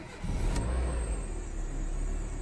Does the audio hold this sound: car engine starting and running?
yes